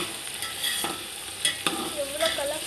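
Ingredients for mutton biryani being stirred and sautéed in a pan, a steady soft sizzle with intermittent scraping strokes of a spoon, close and moderately loud, no talking.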